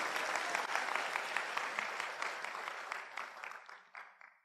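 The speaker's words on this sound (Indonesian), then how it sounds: "Yang setuju boleh tepuk tangan sekali lagi" Seminar audience applauding together, a dense, steady wash of many hands clapping that holds strong before thinning and tapering off toward the end.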